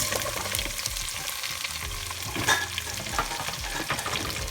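Chopped onions, a large batch, fry in flavorful oil in a saucepan for jambalaya, giving a steady close sizzle with soft stirring scrapes and a brief louder clatter midway; no talking.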